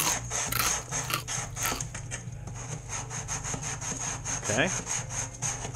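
Sandpaper rubs back and forth across a wooden surface on a Crackerbox-style RC gas boat kit, a steady, close, rhythmic scratching with a brief spoken word over it.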